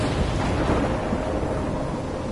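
Thunderstorm in the video game Life is Strange, a steady loud wash of rain and low rumbling thunder filling the whole stretch, with no voices.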